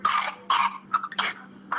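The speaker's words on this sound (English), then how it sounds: "He was coughing and doing the whoop." A child with whooping cough coughs in repeated harsh bursts, four or five spasms in quick succession with short gasping gaps between them, close and fairly loud, with no talking.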